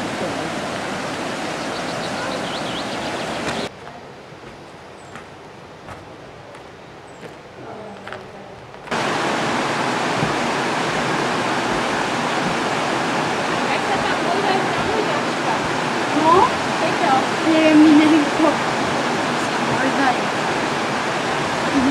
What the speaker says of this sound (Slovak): Aj ten potok je krásny.